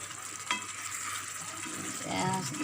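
Food with chili frying in a pan makes a steady, moderately faint hiss and sizzle, with one soft knock of a utensil near the start.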